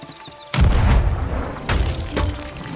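A cannon fires a cannonball in a pirate-ship video game, one sudden loud boom followed by rumbling and a second thumping burst as the blast echoes.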